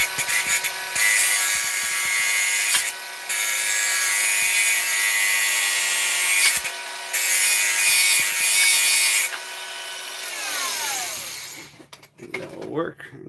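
A power tool trims wood off one end of a jig piece: a loud, steady, high whine that cuts in and out in long passes, then winds down at the end, followed by brief talk.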